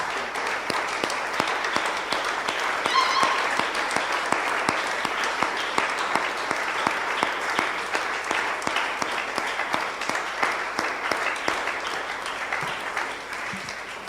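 Dense, sustained applause from a large church congregation, steady and lively throughout with no break.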